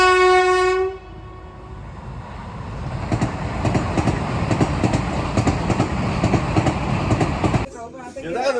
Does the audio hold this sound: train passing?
yes